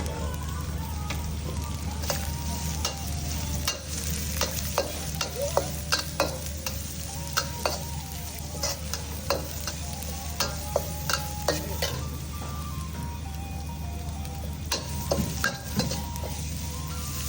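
Canned fish and egg are stir-fried in a pan: a quiet steady sizzle is broken by many sharp spatula scrapes and metallic clinks, stirring in uneven bursts across the whole stretch.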